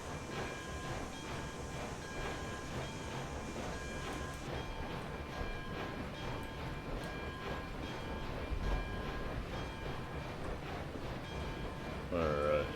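A steam locomotive in RailRoads Online chugs with a steady, rhythmic pulse of exhaust beats under a rumbling mechanical drone, moderately loud and continuous, with a brief voice near the end.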